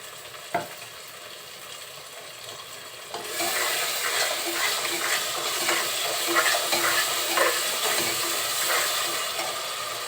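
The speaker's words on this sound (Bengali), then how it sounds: "তেলের সাথে মশলাগুলো আমি খুব সুন্দরভাবে কষিয়ে নিব" Cumin paste and spices frying in hot oil for a beef curry, a steady loud sizzle that swells after a quiet start, with scraping stirs and small pops over the top.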